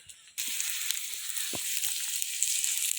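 Onions hit hot oil and burst into a loud, steady sizzle that carries on unbroken, following a brief quiet moment, while they cook for a Tamil-style okra and tamarind kootu curry.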